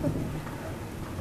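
Steady rain with rumbling thunder during a thunderstorm in Spijkenisse, a broad wash of noise at moderate level with no voices.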